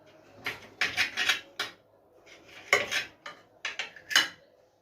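Knife slicing fresh chicken into strips on a board, irregular clusters of sharp cuts and taps, close and distinct with quiet gaps between.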